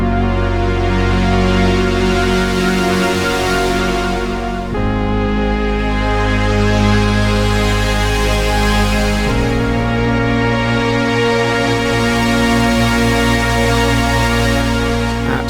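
A Trident MkIII synthesizer plays a patch with all three sections layered, giving sustained rich chords that change in three long blocks, loud and full, with effects on the sound.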